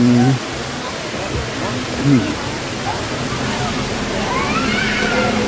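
Phu Sang waterfall in Phayao, Thailand, a steady broadband rush of falling water filling the whole clip, moderately loud, with a few faint voices and a brief thump near the start.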